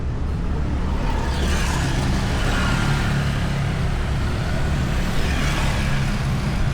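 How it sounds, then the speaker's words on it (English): Dense weekend street traffic near a train station in Purwokerto, Central Java, a constant loud roar of car and motorbike engines with tyre noise, no gaps and no talk. "the traffic is getting more crowded"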